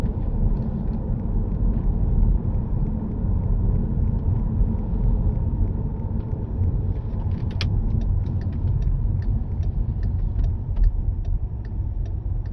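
A car drives into the car park at Goodison Park stadium with a steady, loud engine rumble and road noise throughout, and a few faint clicks and ticks in the later part.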